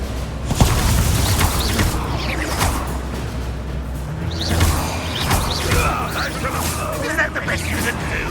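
Hogwarts Legacy combat: a spellcaster fires Incendio, with a loud rushing fire whoosh and booming impacts over a rumbling game soundscape. Character voices speak over the action.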